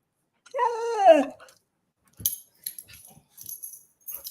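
A dog lets out a drawn-out, wavering whine-like growl up close, followed after a pause by a few brief scuffs and clicks.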